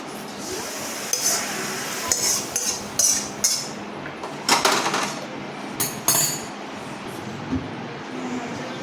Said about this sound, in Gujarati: બધું સારી રીતે મિક્સ કરી લઈશું